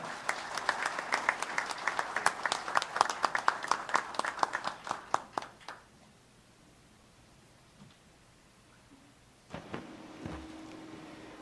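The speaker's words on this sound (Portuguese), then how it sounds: "Peço, peço ao público aplausos de boas-vindas." Audience applause fills a hall at an academy induction ceremony, dense steady clapping for about six seconds that then tapers off into quiet room tone before a few faint thumps.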